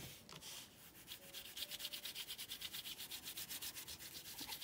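Fingertip rubbing a light coat of gesso across a paper tag for mixed-media craft, a soft, close rhythmic scrubbing with steady back-and-forth strokes, no talk.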